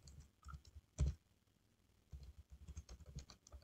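Fast typing of code on a computer keyboard: close, quiet bursts of key clicks with one louder keystroke near the start and a brief pause before the tapping resumes.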